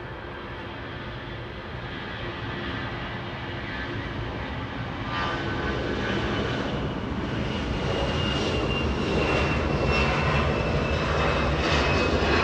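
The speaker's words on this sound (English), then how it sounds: "Now we have a 747 freighter." A Boeing 747 freighter roars past at Los Angeles International Airport, a steady broadband engine rumble that grows louder and closer over several seconds with no talk.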